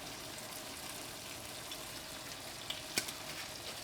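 Tomato and egg with cooking wine simmer in a pan, a faint, even bubbling hiss with a couple of small clicks near the end.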